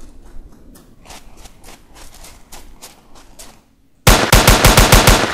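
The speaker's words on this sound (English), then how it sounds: "Let's go shoot some barrel fish." In-game gunfire from a Call of Duty session: faint rapid clicks and shots at first, then a loud burst of evenly spaced automatic shots near the end, with no talking.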